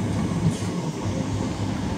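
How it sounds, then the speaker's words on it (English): A ScotRail Class 324 electric train at Motherwell station gives a loud, steady rumble of wheels and running noise, close and continuous throughout, with no voices. "2047 ScotRail service to Lanark from Glasgow Central"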